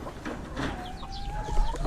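Dekalb White chickens cluck softly in a cluster of short, overlapping calls over a low background hum, close but fairly quiet.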